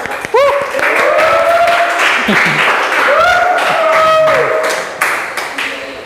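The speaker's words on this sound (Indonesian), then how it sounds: "Boleh duduk lagi, tepuk tangan buat Zulfan." An eighth-grade class in a school lesson claps for a classmate, a fairly loud sustained burst of applause with cheering and voices whooping over it throughout.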